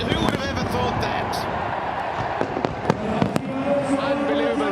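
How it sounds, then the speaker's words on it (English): Fireworks crackle and pop over a loud crowd at a cricket final celebration in Karachi, the 2018 PSL final, with sharp bangs scattered through continuous cheering and talk. "Unbelievable scenes here from Karachi. The fireworks and all."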